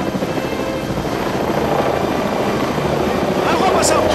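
A helicopter flies overhead with a loud, steady rotor roar and engine drone that fills the whole scene, and voices are faintly present underneath.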